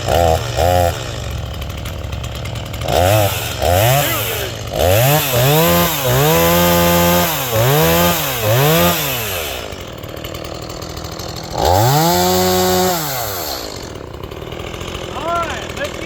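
A STIHL MS 180 chainsaw revs repeatedly in loud rising-and-falling bursts, each throttle blip climbing in pitch then dropping back to a rough idle, close by with outdoor background.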